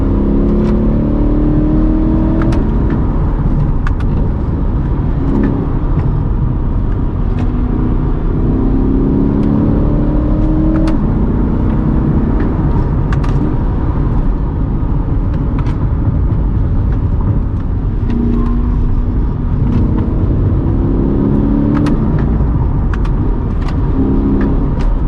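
Corvette C8 engine revving hard from the driver's seat, with rising pitch sweeps cut short by rapid paddle shifts, loud and continuous throughout with road and wind noise beneath.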